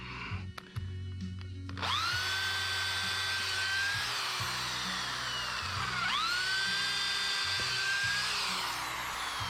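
A drill with hammer mode switched off bores into wet wood while building a shadowbox fence enclosure for a generator, giving a loud, sustained whining drive that rises and dips in pitch as the bit bites, close up with no talking.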